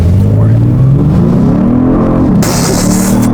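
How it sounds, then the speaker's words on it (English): A Genesis G70's active exhaust in sport mode growls loud and deep, its pitch climbing steadily as the engine revs under acceleration while driving at 40 to 50 mph, with road rumble underneath and a burst of hiss near the end. "You can hear the loud active exhaust right now."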